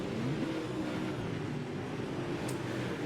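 UMP modified race cars run side by side on the Limaland dirt track during a feature race, engines droning steadily and loudly with a continuous roar that never lets up.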